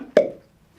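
A film light gives one short, soft pop as it is unplugged, a single close plop followed by quiet.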